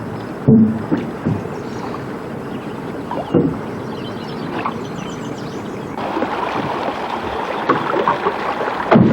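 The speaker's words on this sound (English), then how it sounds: "we climb into a canoe for a beautiful ride down the Niobrara" A canoe glides down the Niobrara River, with intermittent paddle strokes and splashes over soft flowing water and light wind, several distinct dips spaced a few seconds apart, fairly close.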